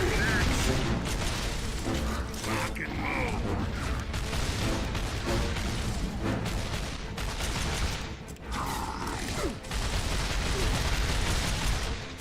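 Enemy gunfire rattles almost nonstop in a War of Gears battle, dense bursts and booms crowding the whole stretch with a speaking voice buried underneath.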